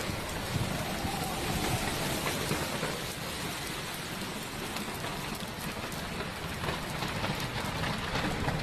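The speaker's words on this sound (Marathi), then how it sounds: "तर चला बघूयात पावसाचा आवाज कशा प्रकारे येत होता." Heavy rain mixed with hail pours down, seen from a parking area, as a dense, steady roar of drops pounding hard surfaces that stays loud and unbroken throughout, with no voices.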